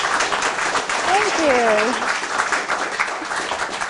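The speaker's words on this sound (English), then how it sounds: "I'm sure they want to give you a large round of applause." Studio audience applause, a steady wash of clapping throughout while a voice speaks briefly over it.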